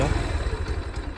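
Close, low idle from a Grom clone motorcycle engine, a brief steady rumble with a faint clatter and a voice briefly present.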